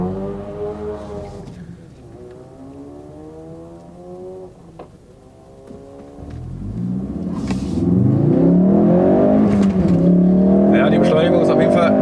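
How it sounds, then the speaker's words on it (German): A 2016 Ford Focus RS rated at 350 PS accelerates hard in race track mode. The engine note climbs through the revs with gear changes between pulls and swells to a loud, rumbling roar heard from inside the car. "die Beschleunigung ist auf jeden Fall enorm bei dem Fahrzeug, sind jetzt schon bei 100 km/h"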